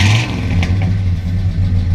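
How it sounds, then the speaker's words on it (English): A 1960 Plymouth Fury engine revs on a cold day, a loud, close, steady rumble with a brief rise in pitch near the start and continuous low drone throughout, no talking. "Go ahead and rev it up a little bit."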